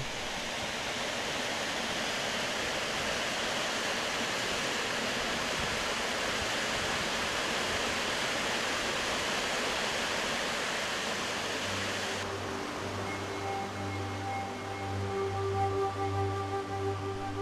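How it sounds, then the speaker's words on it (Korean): Steady, dense rushing of a waterfall, two streams merging into one and flowing down a mountain trail at Ssangyong Falls on Seoraksan, fills the air at constant loudness, then a low hum and faint tones appear near the end. "두 줄기의 폭포수가 합쳐져 외줄기가 되어 등산로를 따라 흘러내려간다."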